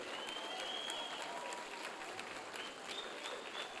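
A church congregation claps and cheers during a sermon, with shrill whistles rising over the crowd. The sustained applause is faint and sounds distant.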